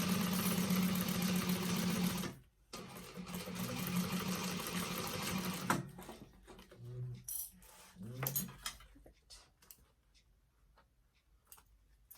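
A sewing machine runs steadily, stitching a 1/4 inch seam allowance to baste a vintage expandable tote. The loud, even whir stops abruptly after about two seconds and gives way to quieter handling noises.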